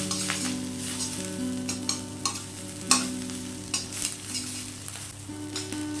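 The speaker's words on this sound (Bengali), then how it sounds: "আরো এক মিনিট মতো ভেজে নেব যতক্ষণ না মুচমুচে হচ্ছে ততক্ষণ পর্যন্ত ভেজে নেব" Moringa leaves frying in a little oil until crisp, a steady close sizzle with repeated stirring scrapes and clinks against the pan, no voices.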